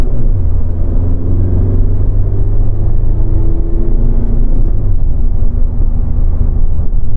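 A 2012 VW Golf TDI diesel drives along in fourth gear, giving a steady low engine drone and road rumble that holds close and loud throughout with no talk over it.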